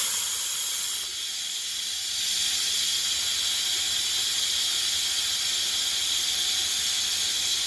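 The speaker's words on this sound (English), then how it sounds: "So there's not a lot of steam coming out, so it shouldn't take but just a second here." Steam hisses steadily from an Instant Pot's pressure release valve, a loud, continuous, bright whoosh that holds for several seconds with a slight dip near the start.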